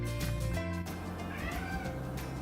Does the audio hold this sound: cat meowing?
yes